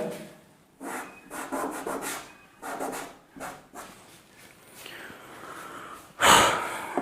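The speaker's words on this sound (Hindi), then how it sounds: "थोड़ा सा रब कर देते हैं इसको, इसी फिगर पर क्लियर हो जाएगा।" A figure on a board is rubbed out with quick bursts of rubbing, close and fairly loud, repeated in short strokes with brief pauses and one stronger swipe near the end.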